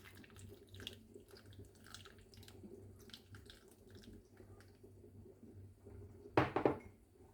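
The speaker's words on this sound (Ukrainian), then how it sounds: "беремо окроп і заливаємо окропом" Boiling water is poured from above over a tomato sitting on a plate, heard as a short, loud splashing pour near the end after quiet kitchen clinks and handling.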